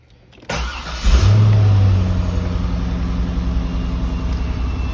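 A Corvette C5 starting up: a sharp crank catches into a loud engine roar that settles into a steady, rumbling idle, close by with no talking.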